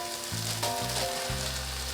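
Ground beef and ground lamb hit sautéed vegetables over medium-high heat and sizzle close and steadily. A few low tones sound under the frying.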